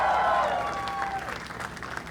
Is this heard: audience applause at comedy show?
yes